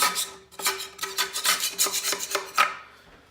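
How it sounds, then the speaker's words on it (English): Old glue being scraped off a lid, with a rapid series of close, raspy scraping strokes in a steady rhythm that stops abruptly near the end. "Just scrapes right off and it's ready for new glue."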